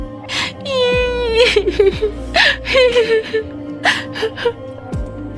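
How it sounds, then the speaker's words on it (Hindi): Several voices wail and whimper at once, rising and falling cries overlapping in a distressed chorus, loud and close. "कई सारे बच्चों के रोने की आवाज सुनाई देती है।"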